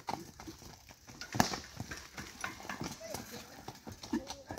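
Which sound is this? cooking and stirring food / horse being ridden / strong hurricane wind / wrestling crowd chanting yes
horse being ridden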